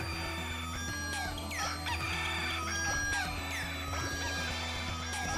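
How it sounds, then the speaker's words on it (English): Chickens in the video game Katamari Damacy Reroll crow and cluck repeatedly over a continuous bed of game music and effects, the bird calls overlapping and fairly prominent, with no one talking. "Choosing violence against chickens."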